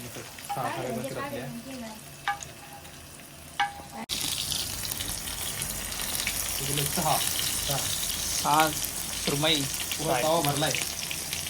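Surmai fish fries crispy on low gas in a Konkani homestay kitchen in Vengurla, a dense continuous sizzle that grows fuller partway through while people talk over it.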